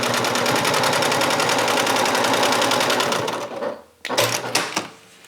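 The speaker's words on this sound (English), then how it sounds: "I'm just going to baste this top edge closed." A sewing machine basting the top edge of a fabric bag closed: a fast, steady run of stitching for about three and a half seconds, a brief stop, then a few shorter bursts and clicks close by.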